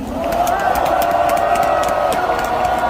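A crowd at an outdoor political rally applauds volunteers, with dense clapping and a sustained tonal hum over steady crowd noise.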